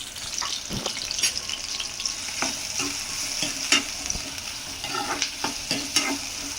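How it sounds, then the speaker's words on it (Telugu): Onions sprinkled with salt fry and get stirred in a pan, a constant close sizzle punctuated by repeated scraping knocks of the spatula against the pan, with no voices. "ఆనియన్స్ బాగా బ్రౌన్గా అయ్యేదాకైతే ఫ్రై చేసుకుందామండి"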